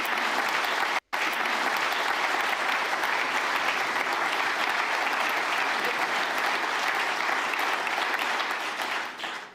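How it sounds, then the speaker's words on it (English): Audience at the Munich Security Conference applauds a speech with dense, steady clapping that continues throughout, broken only by one brief gap near the start and easing slightly at the end. "You don't need to clap for that."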